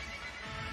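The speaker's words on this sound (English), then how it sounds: "Beautiful horses" A horse whinnies briefly and fairly faintly amid crowd and arena ambience at an indoor four-in-hand driving competition in Stuttgart, with no talk.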